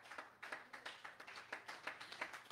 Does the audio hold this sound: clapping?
yes